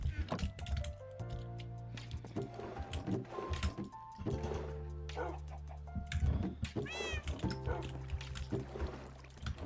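Cats meowing in a Minecraft game, several short high mews scattered among keyboard clicks and game sounds, with a person talking over them.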